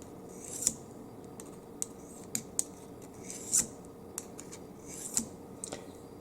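Scissors blade drawn against a Corona AC 8300 garden tool sharpener: sparse, close, sharp scraping strokes at an irregular pace, each one a brief rasp over a quiet background.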